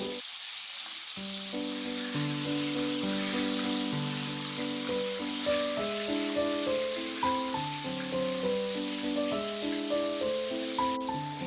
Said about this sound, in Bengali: প্রথমে আমি হাফ ফুলকপিগুলো দিয়ে দিলাম এবার এই ফুলকপিগুলোকে আমি লাল করে ভেজে নেবো